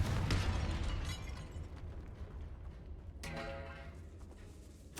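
A Confringo fire-blast spell goes off in Hogwarts Legacy inside a tomb, with a sharp burst at the start, a fading crackling tail, then a second bright crack with ringing debris near the end.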